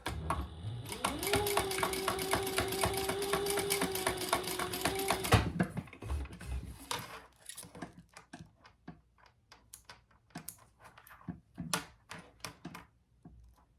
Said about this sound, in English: I sew as close as I can get to that swivel clasp.